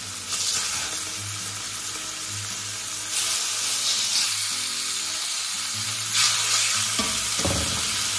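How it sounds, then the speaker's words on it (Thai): Meat fries in a hot pot with a loud close sizzle that flares in bursts as pieces go in and are stirred, hissing steadily between scraping stirs, with no talk. "ต้องเอาเนื้อลงแล้วค่ะเดี๋ยวหม้อไหม้ค่ะ"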